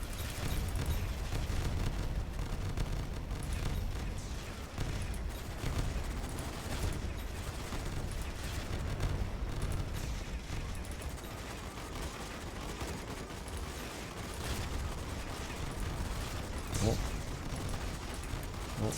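Towers firing in the tower defense game 2112TD, a dense continuous barrage of gunfire and explosive bursts throughout, with a voice talking over the action.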